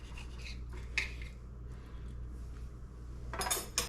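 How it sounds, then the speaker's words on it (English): A knife slices through a grilled steak, medium inside with a seared crust, fresh off a four-burner LED gas grill, giving soft scraping rubs on a plate with a few sharper clinks of metal against dish near the end, close and quiet. "Now let's go ahead and cut it and see how it looks on the inside."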